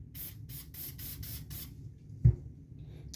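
Six quick bursts from a spray can of cleaner hit Kimber 1911 .45 pistol parts in an even rhythm, close and hissy, followed by a soft knock and quiet handling.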